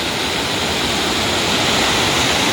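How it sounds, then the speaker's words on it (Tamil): Water roaring as a lake overflows and pours down like a waterfall at a tourist spot, a loud, dense, continuous rush with no break and no voices. "தண்ணி இப்படி ஆர்ப்பரிச்சிட்டு கொட்டது பாருங்கள்"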